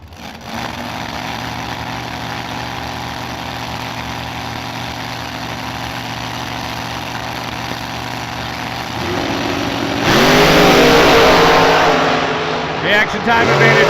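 At a drag strip, outlaw drag race cars, one a normally aspirated big block Chevy, idle with a loud, steady, lumpy rumble, then surge into hard revving near the end.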